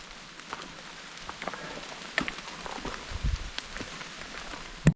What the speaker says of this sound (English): these Appalachian mountains are doing what they do best, and that's rain